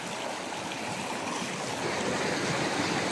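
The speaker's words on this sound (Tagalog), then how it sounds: "ang lakas ng agos ng tubig" A strong river current rushes in Mindoro during Typhoon Uwan, a loud, close, continuous roar of flowing water that grows slightly stronger toward the end, with no voices.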